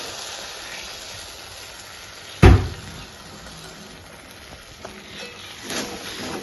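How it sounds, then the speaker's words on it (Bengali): A poppy seed and cashew paste drops into frying spices in a pan with one heavy plop, followed by soft sizzling and occasional stirring scrapes. "এবার আমি এর মধ্যে পোস্ত আর কাজু বাদামের পেস্টটা দিয়ে দেবো।"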